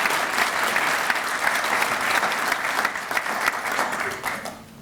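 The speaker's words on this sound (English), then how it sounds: "give Mike a round of applause for putting this together" Audience applause at an alumni loyalty award speech, a steady wash of clapping from a full room that holds for nearly five seconds before thinning out at the end.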